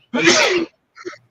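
A single loud, close sneeze bursts out, followed by a faint short breath or murmur.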